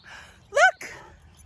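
A big dog gives one loud, close bark followed by a shorter, softer second sound, over a quiet indoor background.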